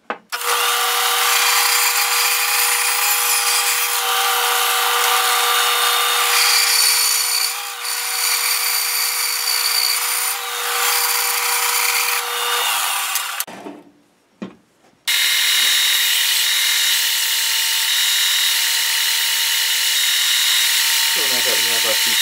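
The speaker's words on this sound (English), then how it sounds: "at the bandsaw, I'm going to cut this to length and rip it down the middle" A bandsaw cuts a wooden piece to length and rips it down the middle into two half cylinders: a loud, steady whine of blade through wood for about thirteen seconds, a short pause, then a second sustained cut, with a voice talking at times.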